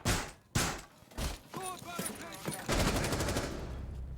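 Rapid automatic gunfire from a video game in a professional esports league finals match, with loud bursts rattling steadily through the second half after a caster talks over scattered thumps and shots.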